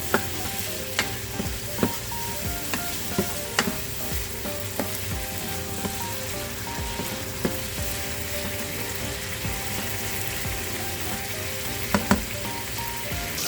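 Seasoning frying and being stirred in a pot of Guyanese fish curry base with tomato, a steady close sizzle broken by repeated sharp clinks and scrapes of a spoon against the pot, with no voices.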